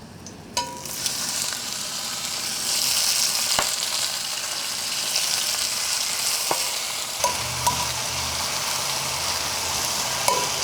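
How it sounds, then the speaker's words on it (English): Blackened salmon grills on a hot grill, giving a continuous hissing sizzle with occasional sharp clicks and pops, close and steady, and no voices. "our fish has been grilling happily"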